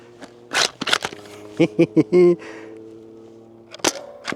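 A 3D printed bolt action dart blaster fires with a sharp snap, set among quick clicks of the bolt being worked, while people talk briefly before and after at an outdoor range.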